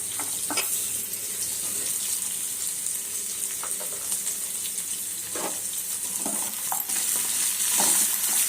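Small pieces of washed raw tamarind frying in a pan, a continuous close sizzle with scattered spoon scrapes and taps throughout, no one talking.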